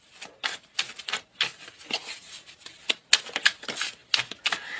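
Tarot cards shuffled and drawn, a close run of crisp, rapid flicks and riffles in uneven bursts with brief pauses between them, clear and fairly loud, without any talking.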